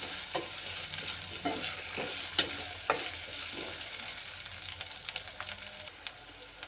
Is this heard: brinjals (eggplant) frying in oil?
yes